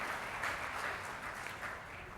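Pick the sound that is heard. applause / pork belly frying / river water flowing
applause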